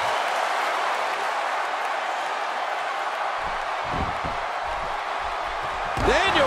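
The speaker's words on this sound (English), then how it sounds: "by the sound of this crowd" Arena crowd noise from a WWE 2K17 wrestling match between AJ Styles and Daniel Bryan, a steady roar with thumps of ring action, alone with no talk.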